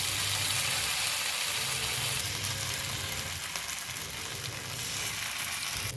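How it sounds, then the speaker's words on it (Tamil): Raw banana slices fry in oil spread across a pan, a dense continuous sizzle close by, fairly loud and unbroken with a slight easing in the middle. "வாழைக்காய் வறுப்படும் போதே"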